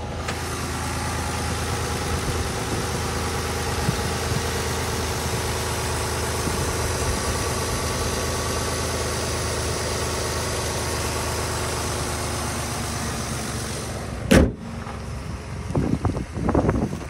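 A 2011 Ford Escape Limited engine idles steadily after starting, a constant low hum with wind noise over it, broken near the end by a sharp thump and a few knocks.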